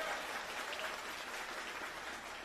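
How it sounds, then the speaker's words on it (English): Audience clapping for the president at the DeKalb Virtual Career Academy closing celebration, a dense, fairly quiet wash of applause that stays even throughout this short stretch. "Let's give the president a round of applause."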